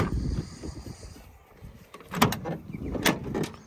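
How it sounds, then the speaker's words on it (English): Rear barn doors of a Nissan GU Patrol with a TB48 engine being opened, giving a couple of close latch clunks and rattling door movements after a stretch of low rumble. "Then we'll go into the rear barn doors."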